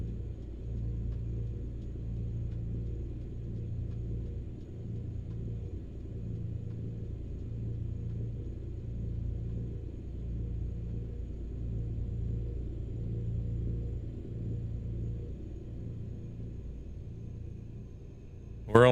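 A truck engine in Euro Truck Simulator 2 rumbles low and steady at cruising speed, a continuous drone with no talk over it.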